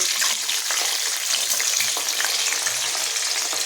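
Squeezed potato pieces fry in hot oil in a wok, a loud, dense and continuous sizzle close up, without any voices.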